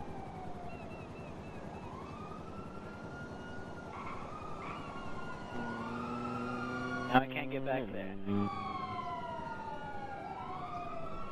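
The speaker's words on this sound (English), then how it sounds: "I've just been hearing all the sirens going off." Police sirens in Grand Theft Auto wail in repeated rising and falling sweeps, steady throughout, while a person speaks briefly partway through.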